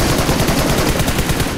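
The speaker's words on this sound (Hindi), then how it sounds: "मैंने उस पर फायरिंग तो करी" Dense automatic gunfire from PUBG Mobile, loud and close, with rapid continuous bursts filling the whole moment and no talking over it.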